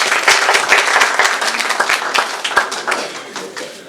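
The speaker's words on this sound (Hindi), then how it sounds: "आपकी तालियाँ।" Audience applause at a January 2023 commemorative gathering in Islamabad honouring Shaheed Hakim Mohammed Said, a dense steady patter of many hands with sharp individual claps standing out, loud and sustained throughout.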